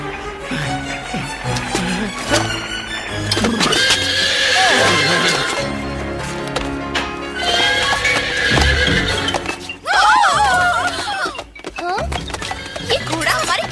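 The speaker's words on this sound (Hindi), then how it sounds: "ये घोड़ा हमारे किचन में क्या कर रहा है?" A horse neighs and whinnies inside a kitchen in a staged fairy-tale drama, its loud calls mixed with background music, clip-clop steps and people talking.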